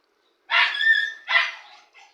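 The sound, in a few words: dogs barking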